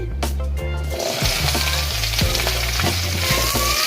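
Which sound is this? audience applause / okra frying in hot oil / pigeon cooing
okra frying in hot oil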